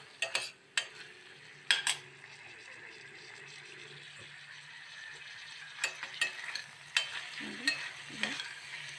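Sorrel leaves (chukkakura) sizzling and being stirred in a hot pan, close and fairly quiet, with a steady frying hiss broken by sharp scraping stir strokes and a few bubbling pops.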